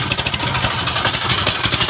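A motorcycle engine running after being started, with the throttle applied, gives a steady close-up chugging drone with rhythmic pulses throughout the short stretch.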